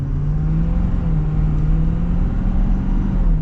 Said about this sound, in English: let's get a little acceleration here.